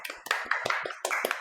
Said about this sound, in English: It was an actual clap.